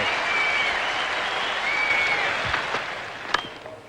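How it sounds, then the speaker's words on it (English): Spectators at a 1984/85 World Series Cup cricket match applaud and cheer after a big over, a steady roar of clapping with scattered whistles that eases slightly at the end. "The crowd's gone mad."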